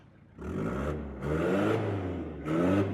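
An old car's engine runs while reversing, a low rumbling idle that rises in three swells of revving with a slightly rough, whirring tone, close to the listener.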